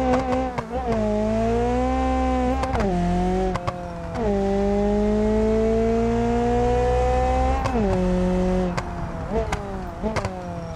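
A turbocharged Volkswagen Fusca roars loud and close in a racing game, engine revving and holding high through long gear pulls with sharp shifts and pitch drops between them, alone without talk.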